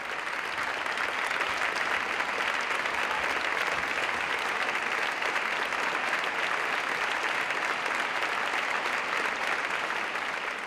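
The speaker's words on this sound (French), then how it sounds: "Quand on a le public qui applaudit après la première" A theatre audience in Madrid applauds the Grand Théâtre ballet company after its première performance, an even, unbroken wall of clapping from many hands sustained at full strength throughout.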